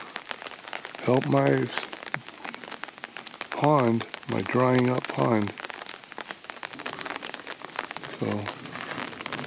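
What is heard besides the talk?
rain falling outside in a garden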